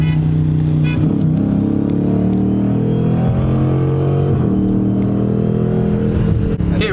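Several Ford Mustangs rev and race on a city street during a large car meet, a loud, dense engine roar that surges and shifts in pitch over a constant rumble, close by and continuous.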